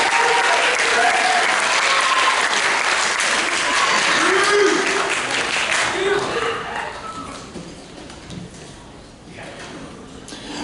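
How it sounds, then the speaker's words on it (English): An audience at a high school jazz ensemble concert applauds a clarinet soloist: dense, loud clapping that swells and then gradually thins out, with a few scattered claps near the end. "Give her a round of applause."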